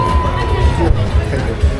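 Spectators at the finish line of the Transmartinique 2025 race make a steady, close crowd hubbub with scattered applause as a runner crosses, while voices talk over it throughout.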